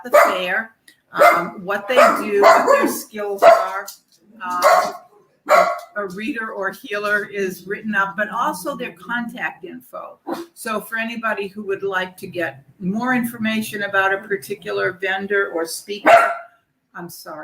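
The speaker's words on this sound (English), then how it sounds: "that's my dog" A pet dog barks several times at close range, mixed in with someone speaking steadily throughout.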